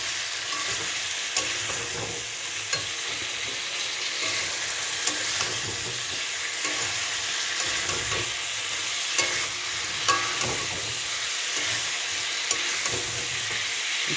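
Masala being stirred and sautéed in a pan with already fried potato and cauliflower, a steady close sizzle with scraping spoon strokes throughout, no talking.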